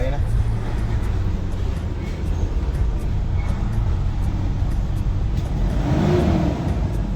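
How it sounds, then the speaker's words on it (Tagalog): A Toyota Innova diesel engine runs at idle nearby, a steady low rumbling drone that holds constant throughout. "Ito talaga andar ng diesel kaysa sa gasolina."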